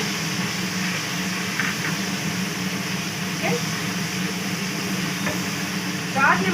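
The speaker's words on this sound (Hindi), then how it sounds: "इस पॉइंट हम इसमें डालेंगे अदरक लहसुन का पेस्ट, इसको हल्का सौटे करेंगे" Ginger garlic paste sautés with browned onions in a pan for chicken karahi, a steady sizzle with occasional scrapes of stirring, and a voice speaks quietly in the background.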